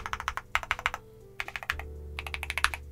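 Mechanical keyboard keys clack in quick bursts of typing, crisp and poppy, with short pauses between runs; an MMStudio Class80R2 with Gateron EF Grayish tactile switches.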